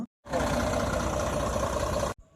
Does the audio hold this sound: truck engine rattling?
yes